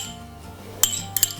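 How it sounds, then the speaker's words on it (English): Salad tossed with dressing in a bowl, utensils giving a few sharp clinks against the bowl, two or three bright knocks near the end over a quiet background. "you just want to mix it well"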